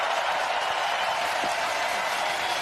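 A packed AEW wrestling arena crowd in Manchester applauds and cheers in a loud, continuous roar of clapping and shouting.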